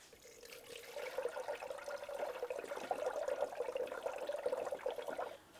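Orange coolant pours into the cooling system of a Ford Flex, a soft, steady trickling gurgle that rises after a second and runs on quietly for several seconds before stopping abruptly.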